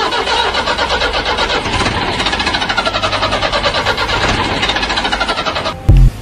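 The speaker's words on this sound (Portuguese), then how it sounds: "o motor começa a falhar" A loud comedic sound effect of a motor sputtering and failing: a rapid, uneven chugging rhythm that falters throughout and ends in a short heavy thump.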